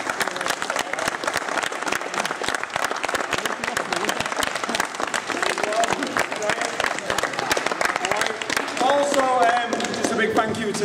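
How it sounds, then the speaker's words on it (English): A large crowd gives sustained applause and cheers to celebrate the champions at a summer basketball league finals, dense clapping filling the whole stretch with voices mixed in. "let's have a massive round of applause for this year's champion."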